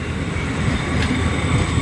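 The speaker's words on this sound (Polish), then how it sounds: "tu już jedzie pociąg. Przez który musimy czekać. I to jest pociąg." A passenger train rumbles steadily past nearby in Poland, with continuous low wheel and rail noise and a faint high whine throughout.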